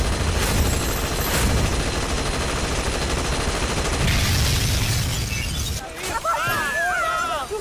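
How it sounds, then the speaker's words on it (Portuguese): A Thompson submachine gun fires in a Portuguese-dubbed JoJo's Bizarre Adventure anime scene, with rapid loud bursts and crackling impacts. A voice and other effects follow near the end. "E onde é que ele foi arranjar essa metralhadora Thompson? Ele tá atirando!"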